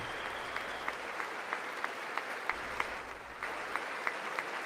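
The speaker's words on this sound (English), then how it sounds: "Are the people on the other side of the aisle, are they clapping for this?" Applause from the chamber at the State of the Union address, a steady wash of clapping with a few louder individual claps standing out. It dips briefly near the end, then resumes.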